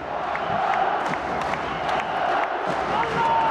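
A handball crowd cheers in Prince Abdullah Al-Faisal Hall during the Al Ahly versus Zamalek men's African Cup Winners' Cup final, a loud continuous roar with chanting and clapping while a commentator talks over it.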